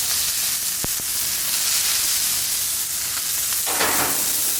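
Steak sears in oil in a pan over high heat, giving a loud, steady, broadband sizzle that holds throughout with a couple of faint clicks and no talking.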